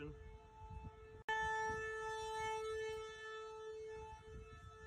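A tornado warning siren near Omaha during severe weather starts after a sharp click and then holds a sustained, wailing tone. It sounds moderately distant over a low, rumbling wind background.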